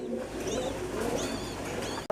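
Pigeons at a market coo in soft, repeated throaty calls over a low hum of background crowd noise, close and steady throughout.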